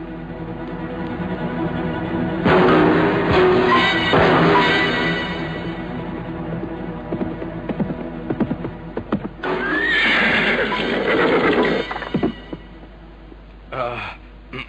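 Several horses neigh and whinny in a radio drama scene, loud, shrill calls mixed with clip-clopping hooves and bursts of speech and gasps, the whinnies rising and falling across the scene.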